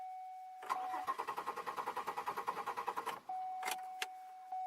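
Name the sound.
2002 Chevy Malibu engine cranking but not starting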